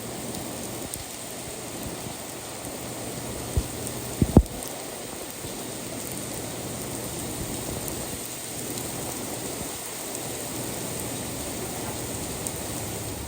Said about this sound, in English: Oh dear, we're getting some rain.